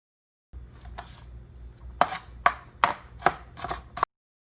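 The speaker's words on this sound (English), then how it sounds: "I'm just going to chop these up into" A knife chopping seeded cucumber slices into small pieces on a board for macaroni salad, five or six sharp close knocks in quick succession with a soft scraping lead-in, no talking.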